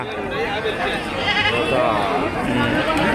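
Goats bleat repeatedly at a busy outdoor goat market in Kunta, Andhra Pradesh, their cries mixed with steady murmur and chatter of many people nearby.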